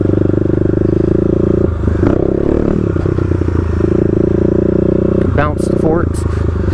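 Kawasaki KLX351 dirt bike engine running steadily, with a clattering thump and scrape as the front forks bounce and the bike hops up over a curb during off-road skills drills; a voice speaks briefly over the engine.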